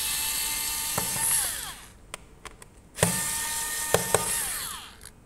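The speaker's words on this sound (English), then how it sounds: "To open up the laptop, we have 1, 2, 3, 4, 5, 6, 7, 8 screws to undo." Small screws being undone on a Dell Latitude E7470 laptop, with a few brief sharp clicks and short whirring bursts of a small powered screwdriver, close and quiet.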